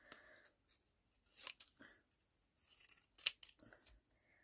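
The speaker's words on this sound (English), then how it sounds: "I'm just going to cut around them. Just grab some scissors." Scissors snip around botanical-word paper cards for mixed media journaling, giving a few short crisp cuts between quiet pauses, close and fairly faint.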